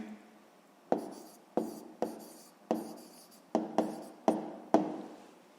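Writing an answer by hand on paper during a sixth-grade maths exercise: eight short, crisp pen or pencil strokes in an uneven rhythm, each with a sharp onset and quick fade, close up and quiet, with no talking.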